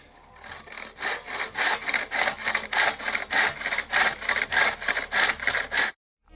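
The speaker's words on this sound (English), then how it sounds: "I even brought out a Fisker's wedge to help me with my crosscut saw." A crosscut saw rips through firewood at a wilderness camp, loud close strokes in a steady fast rhythm of about twenty rasping pushes and pulls before stopping abruptly.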